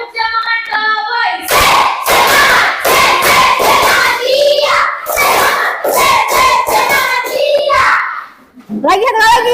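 A group of children doing a rhythmic spirit clap in a classroom, sharp synchronized claps and thumps in bursts with chanting voices between them, loud and close, with a speaking voice at the end.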